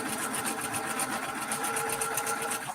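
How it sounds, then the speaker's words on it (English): A sewing machine stitches quilt fabric with the darker fabric on top, a steady, fast, close mechanical whir that runs without a break from start to end. "I'm sewing with the dark side up, the darkest fabric on top, because whatever's on top, that's the way it likes to fold."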